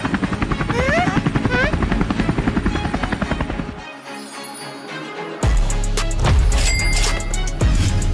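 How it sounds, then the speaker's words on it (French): A luxury helicopter landing, its rotor chopping loudly and steadily, then briefly dropping away before a strong, close return of rotor thump and turbine whine. "un hélicoptère de luxe atterrit, captant l'attention de tous"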